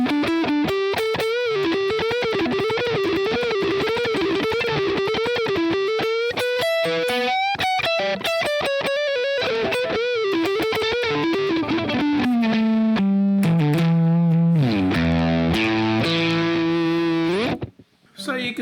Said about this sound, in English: now we'll take that sound and we'll add the fuzz as we had set it up